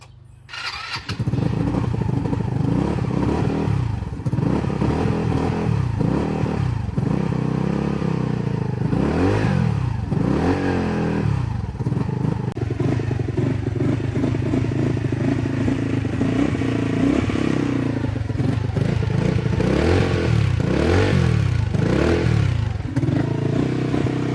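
A small 125cc moped engine sputters to life and keeps running, its revs rising and falling repeatedly in loud, rattling surges close by.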